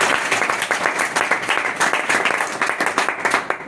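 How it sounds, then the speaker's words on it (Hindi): Loud, dense applause from an audience at an education talk, many hands clapping steadily and close throughout. "मैं चाहता हूं इनके लिए जोरदार तालियां।"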